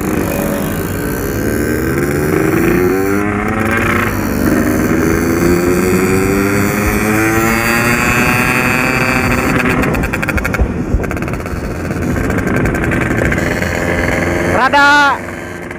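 A Yamaha RX King two-stroke motorcycle engine revs and rattles close by, rising and falling through several throttle blips before a brief squeal near the end.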